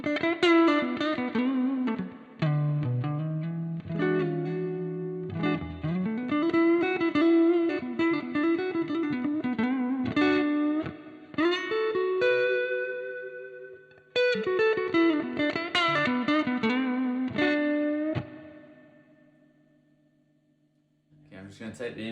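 Electric guitar played through a Blues Breaker overdrive pedal, gritty strummed chords and melodic runs ringing out with distortion, ending in a slowly fading sustained note.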